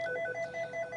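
A telephone rings faintly in the background of a classroom-style recording, a quick repeating electronic trill of bright tones pulsing several times in about a second.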